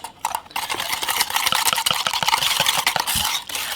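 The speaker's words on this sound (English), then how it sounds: "We're just gonna give this a little whisk" A whisk works through a thick coleslaw dressing made with a little Dijon mustard, giving a fast, steady scraping and clicking against the bowl for several seconds, close and fairly loud, with no talking.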